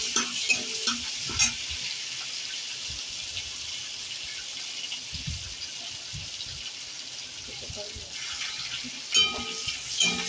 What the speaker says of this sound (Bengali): এবার তেলের মধ্যে কিন্তু আমি জিরে ফোড়ন দিলাম, তেজপাতা দিলাম, একটা শুকনো লঙ্কা দিলাম।